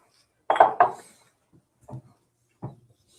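A drinking glass handled on a table during a whisky tasting, giving a couple of close clinks followed by two softer knocks, with no talk over them.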